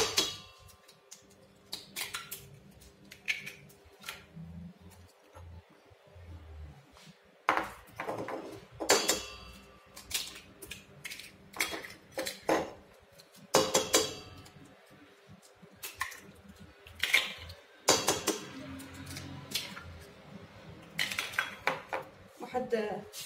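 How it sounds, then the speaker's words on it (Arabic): A whisk or utensil clinks and scrapes rhythmically against a bowl while eggs are beaten with sugar, producing irregular bursts of tapping and clattering with short pauses between them. "صافي كنخدم البيض مع السنيدة"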